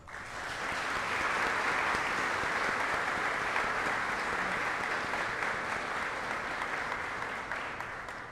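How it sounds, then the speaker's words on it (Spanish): Strong, sustained applause from an audience at a speech promoting values, honouring a young volunteer who works in youth prisons; even, continuous clapping without talk. "Y para ellos yo quiero pedir ahora un fuerte aplauso"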